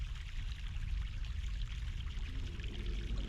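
Fresh mountain stream water in The Longest Journey, a steady pouring, trickling flow that runs continuously and fairly softly, with no voices over it.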